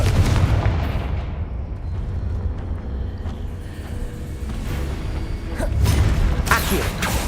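Booming, fiery spell blasts from the Confringo curse in Hogwarts Legacy, a heavy rumbling crackle that swells at the start and again near the end amid ongoing combat noise.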